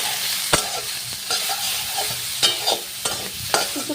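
Raw banana pieces frying with cumin, salt and turmeric in a pan: a constant close sizzle broken by sharp spatula scrapes and taps every half second or so while being stirred.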